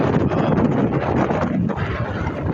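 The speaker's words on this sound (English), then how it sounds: "sorry about the wind" Loud, rough wind buffets a microphone continuously, a steady rumbling roar with no other clear sounds.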